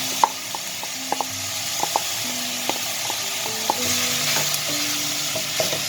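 Bulgur sautéing in a pan with chopped onion gives off a soft, steady frying hiss, broken by light scrapes and taps as a spoon stirs it.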